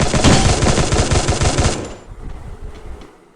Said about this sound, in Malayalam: അവൻ വെടി വയ്ക്കുന്നുണ്ട്